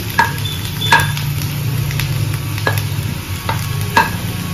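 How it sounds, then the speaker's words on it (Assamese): Chopped tomatoes frying in a pan for butter paneer, a steady close sizzle with a few sharp clinks of a spoon or spatula against the pan. "ইয়াতে ধুনীয়াকৈ বিলাহীখিনি দি দিলোঁ। আৰু এইখিনি এতিয়া ধুনীয়াকৈ ভাজি ল'ম।"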